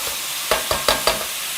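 Green beans in a pan with leftover almond oil, stirred in four quick scraping strokes over a steady hiss of sizzling.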